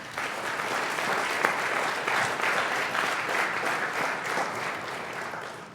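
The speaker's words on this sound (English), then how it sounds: "warm applause for Cassandra Menjivar" Warm applause from an audience at a school board of directors meeting, honoring a student named Cassandra Menjivar. Continuous clapping from many people holds at a moderate level throughout.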